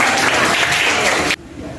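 Loud, dense applause from a class of schoolchildren fills the space, then cuts off abruptly, leaving a quiet room.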